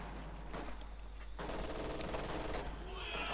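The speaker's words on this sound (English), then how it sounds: "Mortars turning up, firing away." Mortar fire and rapid small-arms gunfire in the Company of Heroes 2 strategy game, a dense continuous battle din with overlapping shots and thuds under a steady low hum.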